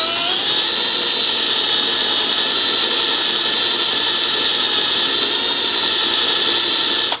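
A high-pitched drill boring into a broken bolt whines continuously at close range, steady and loud, before cutting off abruptly at the end.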